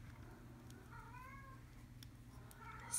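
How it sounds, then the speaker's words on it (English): A cat meows a few times, soft and somewhat distant, against a quiet indoor background with no talking. "Sorry about the cat meowing right now."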